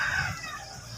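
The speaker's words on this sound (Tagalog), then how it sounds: "Sumasagot sa tilaok mga bro." Wild junglefowl (labuyo) rooster crowing close to a roadside highway, one drawn-out call that tapers off, with a faint rumble of traffic underneath.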